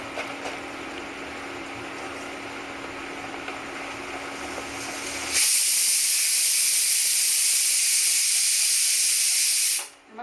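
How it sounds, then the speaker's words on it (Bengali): Pressure cooker cooking jackfruit on a stove: a loud, bright hissing burst of steam, beginning abruptly partway through and holding steady for several seconds before cutting off, after a stretch of lower humming background. "আমার প্রেসারে সিটি এসে গেছে"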